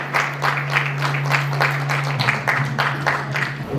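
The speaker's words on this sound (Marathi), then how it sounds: "तुम्ही सर्वजण त्यांच्यासाठी टाळ्या." A wedding congregation in a Church of the Nazarene applauds, a steady crowd of clapping hands close by that keeps an even rhythm of bursts throughout, with a low tone beneath.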